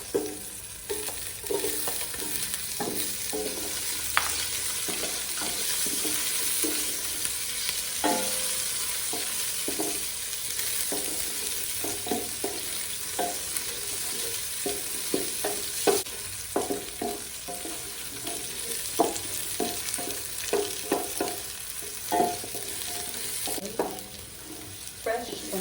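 Onion sautéing in a pan for Filipino pork pochero gives a steady broad sizzle across the whole stretch, broken by frequent scraping stir clicks and clatters, close and fairly loud, with no one speaking.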